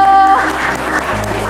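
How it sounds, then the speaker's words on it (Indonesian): Audience applause for a speaker at a cafe gathering, a brief, fairly loud patter of clapping mixed with some background tones and murmur. "Boleh dong tepuk tangan buat Kak Dio"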